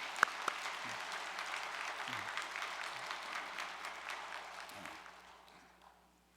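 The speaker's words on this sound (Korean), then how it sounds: "큰 박수 보내 올리겠습니다." Church congregation applauding elders honored as peace ambassadors at a Korean church gathering: dense, steady clapping from a large crowd that swells and then gradually fades out, with faint murmuring beneath.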